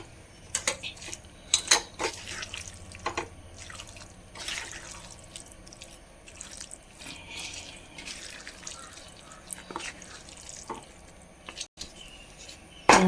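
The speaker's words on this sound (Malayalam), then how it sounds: "നന്നായി ഇളക്കി കൊടുക്കാം" A spoon stirring lemon, dates and garlic pickle in a steel vessel gives light clinks and scrapes, loudest in the first seconds and then softer and sparse, with faint background clatter.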